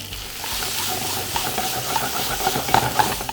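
Marinated prawns with curry leaves and ginger garlic paste frying in hot oil, a steady close sizzle with faint stirring clicks and spatters, no talking.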